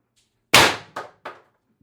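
IntruBuster G2 air gun firing an 8g S-type shaped round, one sharp loud close crack followed by two quicker fading echoing cracks.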